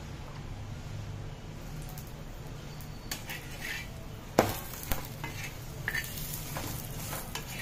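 Oil sizzles in a pan while aloo paratha is cooked, with a soft steady frying hiss. Several sharp clinks and scrapes of a utensil against the pan punctuate it partway through.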